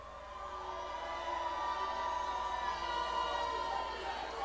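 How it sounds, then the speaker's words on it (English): A live crowd at a concert cheering and making noise, a steady roar of many voices with scattered shouts and whistles, loud and continuous throughout. "Hey, crowd. For this side, make some noise."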